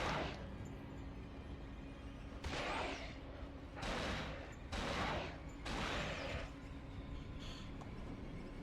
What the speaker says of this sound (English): An AK-47, one of the most unreliable guns on the planet.